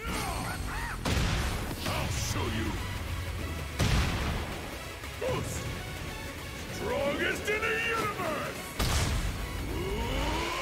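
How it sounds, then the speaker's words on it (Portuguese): Heavy Tekken 8 combat as Paul Phoenix lands explosive moves, with booming, crashing impacts and blasts hitting repeatedly, loud and dense, with a voice talking over much of it. "Nossa senhora, é cada explosão nos golpes dele"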